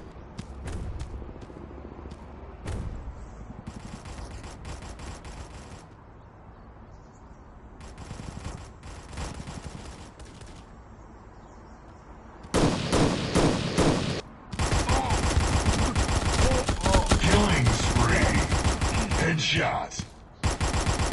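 Repeated bursts of automatic gunfire from the Guns of Boom mobile shooter, with short sporadic shots early on, then dense, loud sustained volleys with brief gaps between them; no speech over it.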